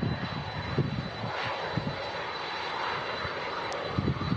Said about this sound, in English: Arriving in the sunshine, the TUI 767.